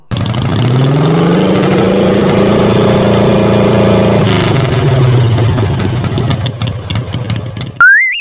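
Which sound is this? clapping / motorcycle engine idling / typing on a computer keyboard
motorcycle engine idling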